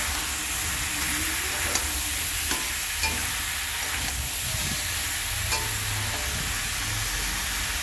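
Marinated seeded banana goes into a pan of frying spice paste, setting off a continuous hissing sizzle with occasional scraping stirs and soft clicks, fairly close and with no talking.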